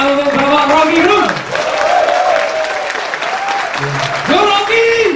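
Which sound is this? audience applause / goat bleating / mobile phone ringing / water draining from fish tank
audience applause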